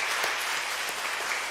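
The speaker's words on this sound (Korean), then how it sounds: "큰 박수" A church congregation applauds during an elder installation service, with a dense, even wash of clapping throughout, loud and continuous.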